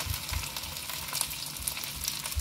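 Okra pieces frying in hot oil on a high flame, a continuous crackling sizzle at moderate level with faint low knocks.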